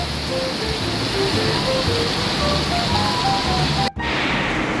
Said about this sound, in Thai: ก็ฝนตกหนักมากเลยครับ